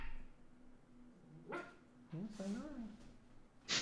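A puppy lets out a few short, high yips and whimpering barks close by, in irregular bursts with quiet pauses between them, over a faint background hum.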